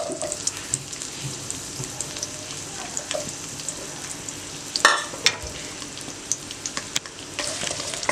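Sliced bell peppers sizzle and crackle in two spoonfuls of hot oil in a home kitchen, a steady close frying hiss broken by spoon clinks and stirring scrapes, with no talking.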